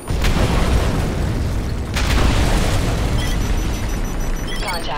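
Heavy bombardment in Call of Duty MW3, with two deep, booming explosions a couple of seconds apart and rumbling debris and battle noise continuing loud in between.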